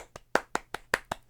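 Hands clap seven times in a loose, unhurried rhythm, each sharp slap close and distinct against near silence.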